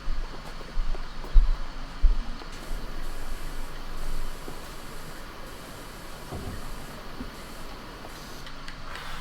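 A pressure washer in PowerWash Simulator sprays steadily across a mini golf course, a continuous hiss with a few louder knocks near the start.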